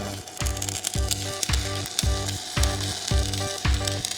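Steady crackling and buzzing electric arc sizzle from stick welding with an electrode on an excavator bucket, rhythmic pulses about twice per second, loud and close, with no voices.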